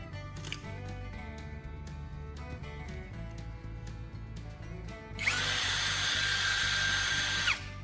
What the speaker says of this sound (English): Then turn on the drill to spin it.